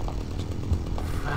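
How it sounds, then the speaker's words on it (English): A chainsaw runs in the video game Manhunt, a steady buzzing drone at moderate loudness that is constant throughout the short stretch. "the only gun I have, you know, available now is a chainsaw."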